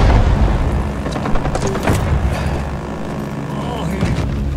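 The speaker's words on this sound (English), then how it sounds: "Grenade." Grenade detonating in Rising Storm 2: Vietnam, Saigon map, amid ongoing battle: a loud, deep boom right at the start decays into rumbling noise, with scattered distant gunfire cracks following.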